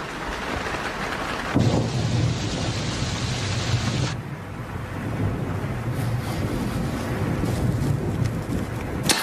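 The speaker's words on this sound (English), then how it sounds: "Oh, I wish this rain would let up." Heavy rain pours steadily while low thunder rumbles through, the downpour shifting in intensity partway through.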